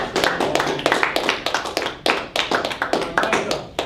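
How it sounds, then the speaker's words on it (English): A small group claps at a university robotics competition, sharp individual claps in uneven bursts, close and sparse rather than a full crowd, with no talk. "let's give a round of applause to Kamacho"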